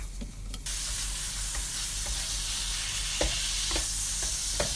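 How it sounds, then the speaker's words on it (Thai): Steady, loud sizzling of pork stir-frying in a hot wok, with occasional scraping clicks of a spatula against the pan; no voices. "ผัดจนเนื้อหมูรัดตัวแล้วเราก็จะตะล่อมไปไว้ข้างกระทะค่ะ"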